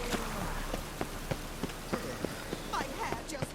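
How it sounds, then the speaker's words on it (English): Rain falls steadily in a Novigrad street in The Witcher 3: Wild Hunt, a constant soft hiss with scattered sharp drops and faint hoof-like clops, under a game character's talk. "The rain will ruin it."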